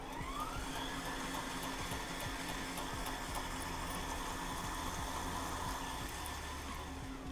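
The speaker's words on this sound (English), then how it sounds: "Just gonna grind this directly into the pot. I've got my machine on a medium die." A meat grinder fitted with a medium die grinds shrimp in a continuous, even motor whine with a low hum. It runs steadily at moderate volume throughout, with no talk.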